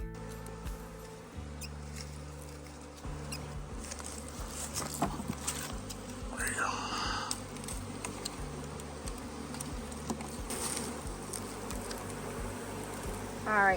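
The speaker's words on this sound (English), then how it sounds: "now that we have that large bundle of bees in there" Honey bees buzzing inside a hive while a large bundle is tucked between frames during a fall colony check; a dense, steady drone fills the whole stretch, close and continuous, with small rustles on top.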